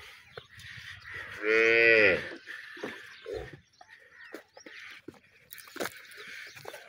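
A cross-breed cow lets out a single loud, deep moo, followed by quieter shuffling and knocking sounds nearby.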